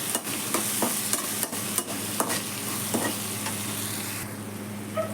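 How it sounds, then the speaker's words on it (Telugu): Turmeric and chili powder frying in a pan for ridge gourd curry, a close, steady sizzle punctuated by sharp spoon scrapes and taps, with no talking. "1/2 స్పూన్ కారం అండి. ఇవి కొంచెం ఫ్రై చేసుకోవాలి."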